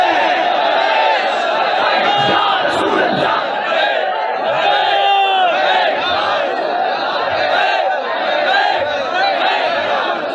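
A large religious rally crowd roars the Labbaik slogan in unison at a Tehreek-e-Labbaik conference, loud massed voices shouting and chanting in repeated surges that fill the whole stretch.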